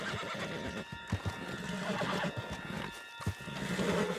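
In Red Dead Redemption 2, a horse whinnies and snorts close by while its hooves clop on the ground, with a few irregular hoofbeats and a shifting game soundscape behind.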